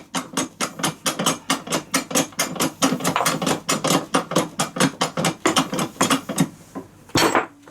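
Press working to push the shaft out of a bearing on a 5HP18 / A5S310Z transmission tail piece: a fast, regular series of sharp metallic clicks and knocks, roughly four per second, close and loud, ending in a heavier clunk.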